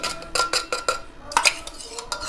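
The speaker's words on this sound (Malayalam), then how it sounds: "നമ്മൾ പഞ്ചസാരയും ഈസ്റ്റും കൂടെ ഇളക്കി വെച്ചത് ഇതിനകത്തോട് മിക്സ് ചെയ്യുകയാണ്" A spoon stirs a sugar and yeast mixture into homemade grape wine in a bowl, making a quick run of loud, close clinks and scrapes, a short pause, then another burst of rhythmic stirring.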